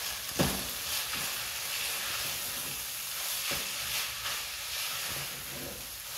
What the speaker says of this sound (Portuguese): Eu vou colocar o alho e a cebola que eu bati junto. E aí vou deixar refogar um bom tanto.